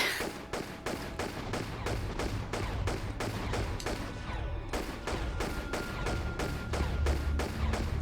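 Rapid, evenly spaced gunshots fire in steady bursts in the video game Tomb Raider Level Editor, loud and continuous throughout with no speech.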